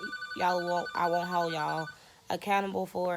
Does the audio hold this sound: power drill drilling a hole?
no